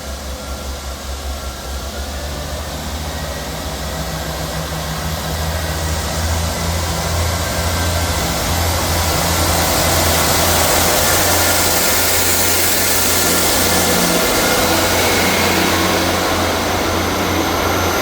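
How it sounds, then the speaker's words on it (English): A Scotrail diesel unit with 158716 on the rear pulls out of Edinburgh Gateway station on the 11:29 Waverley to Leven service, a steady engine drone building and rumbling over wind noise for the whole stretch. "Departing out now is the 11:29 Scotrail service from Edinburgh Waverley to Leven."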